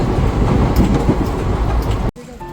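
A train runs along railway tracks with a close, loud and continuous rumble and rhythmic clatter from the wheels, which cuts off abruptly near the end of the short stretch.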